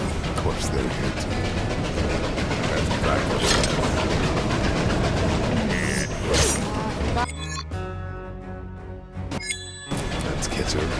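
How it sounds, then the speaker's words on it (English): A train passes in the Western video game Desperados III, a loud continuous rattling rumble with metallic clatter, briefly dropping into a tonal mechanical passage before the roar resumes; game music or effects blend in. "Train's coming."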